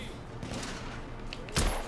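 A single loud gunshot bursts out near the end of a short stretch of muffled game ambience in the video game The Order: 1886.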